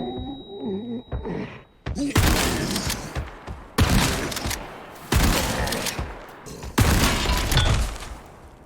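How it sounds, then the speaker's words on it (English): Ada's shotgun in Resident Evil 4 Remake blasting a brute: four loud, heavy shotgun booms spaced about every one and a half seconds, each with a sharp crack and decaying tail, amid groans from the creature. "let's go ahead and test out this shotgun, the one and only one Ada could use, on a brute"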